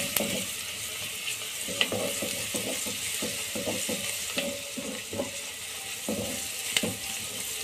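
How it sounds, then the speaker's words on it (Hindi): Chopped onion with garlic-ginger paste frying in a pan for a potato and capsicum curry, giving a steady soft sizzle broken by scattered clicks and scrapes of stirring, close up with no talk. "अब हम इसमें डालेंगे लहसुन अदरक का पेस्ट आधा चम्मच और इसे थोड़ा सा भून लेंगे।"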